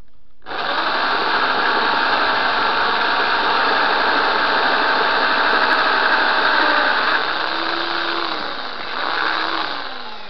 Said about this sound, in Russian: Сверлю я его такой дрелью